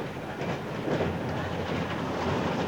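Steam locomotive of the New South Wales 32 class passenger type, heard from close behind the engine: a steady, loud rumbling roll with continuous train noise and clatter throughout, no distinct pauses.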